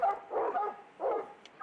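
Hound dogs used by a Montana houndsman for tracking big cats bark in two loud bursts, close and rough, with a short gap between them and no talking.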